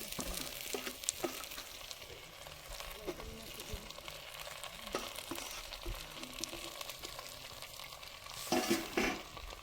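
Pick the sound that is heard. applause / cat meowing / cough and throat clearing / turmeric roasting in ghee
turmeric roasting in ghee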